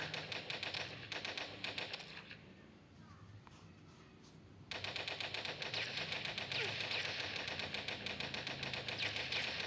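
Rapid automatic gunfire in the mobile game Toilet Monster Hide N Seek, dense rattling bursts that pause briefly mid-clip and then resume loud and continuous.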